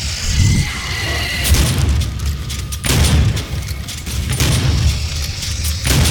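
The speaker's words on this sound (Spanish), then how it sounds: "Super escopeta." Super shotgun blasts in DOOM come as loud, booming shots, several of them at intervals through a dense and noisy game mix of gunfire and explosions.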